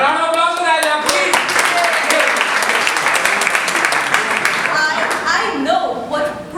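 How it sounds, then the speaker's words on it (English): Audience at a startup summit in India breaks into steady, dense applause lasting several seconds, with talking heard over it near the end. "A round of applause for that, please."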